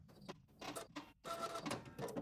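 A sewing machine runs in short bursts, stitching a tie-off on velvet, a close mechanical whir with brief stops between runs.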